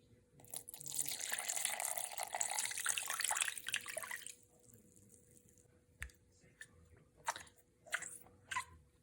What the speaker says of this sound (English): I'm going to add 350 grams of warm, baby bottle warm water